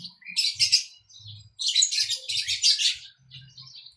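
Parrots and other birds calling in an aviary, a dense stretch of loud, overlapping chirps and squawks in two long bursts, with brief pauses between them and a few soft low thumps underneath.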